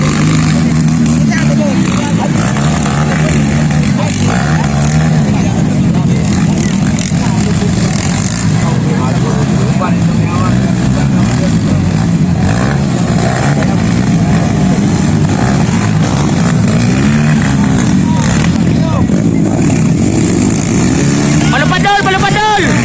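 Honda CRF 150 enduro motorcycles with Thai-built engines race in a local enduro heat, their engines droning loudly and continuously with rising and falling revs while a crowd and announcer talk over them.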